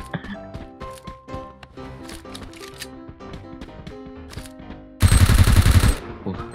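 Gunfire in a multiplayer shooting game during a guild squad match: rapid bursts of crackling shots and clicks, with a louder, dense blast of noise for about a second near the end.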